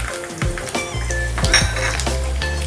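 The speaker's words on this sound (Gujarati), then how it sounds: "તેલ આપણું ગરમ થઈ ગયું છે। હવે એમાં આપણે નાખીશું લસણ" Garlic dropped into hot cooking oil for a pizza sauce, crackling and hissing in a steady, close sizzle with a few clinks of a utensil against the pan.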